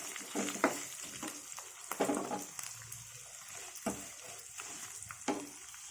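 Chillies frying in a pan for a cucumber and brinjal sesame chutney, a constant crackling sizzle with repeated scraping stirs at an uneven pace, close and fairly quiet.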